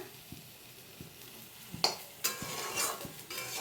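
Okra fries in a kadai with a soft, continuous sizzle while a spoon stirs it, giving faint rhythmic scrapes and a few louder clatters against the pan.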